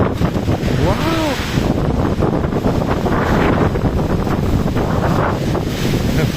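Strong wind storm buffeting the microphone, a loud, continuous roaring rush that gusts without pause, with a voice exclaiming briefly over it.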